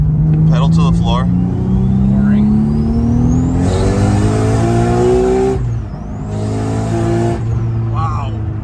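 A Ford F450 truck engine held at full throttle in third gear, its loud pitch climbing steadily as it accelerates, then dropping and climbing again, with talking in the cab at the start and end.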